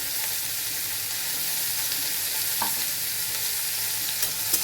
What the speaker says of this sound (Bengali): লবণ হলুদ দিয়ে একটু ভেজে নিচ্ছি